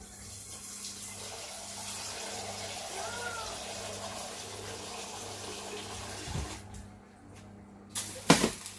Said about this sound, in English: So I'm going to get a pan of water on.